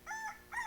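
A rooster crows twice in quick succession outdoors in a rural wilderness area, each call a bright, drawn-out cock-a-doodle-doo heard at moderate distance with no talk over it.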